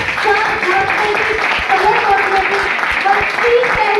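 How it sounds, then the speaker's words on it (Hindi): An audience at a Vestige motivational meeting applauds a speaker, steady clapping running throughout beneath a loud voice and tonal sound. "पूनम पालीवाल मैम के लिए जोरदार ताली"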